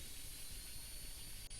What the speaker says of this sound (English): This noise you are hearing is the power being supplied to all components.